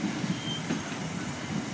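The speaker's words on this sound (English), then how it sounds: "Pretty bare and empty freight train, this one." An empty freight train passes with a steady metallic rumble and faint wheel squeal, heard close and alone for the whole stretch.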